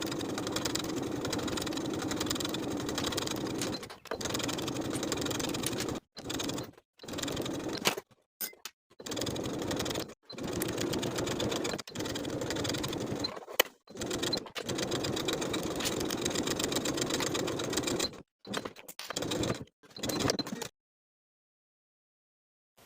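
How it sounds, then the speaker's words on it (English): A sewing machine edge-stitches along the open edges of bias tape from the ties up to the neckline, running in loud, close bursts of steady mechanical whirring separated by short pauses, then falling silent. "Now we can edge stitch along the open edges of the bias tape all the way from the bottom of both ties to the neckline"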